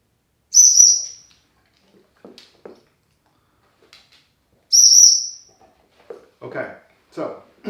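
A dog training whistle sounds twice, each a loud, steady, high-pitched blast about three-quarters of a second long, separated by a few seconds of quiet, with brief soft voice fragments and short talk afterward.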